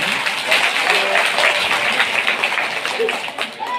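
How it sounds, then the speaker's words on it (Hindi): Audience clapping at a Srimad Bhagavat religious gathering in a village, sustained, fairly loud applause from a crowd, with faint voices mixed beneath it. "आप एक बार ताली बजाकर मुझे आशीर्वाद देंगे।"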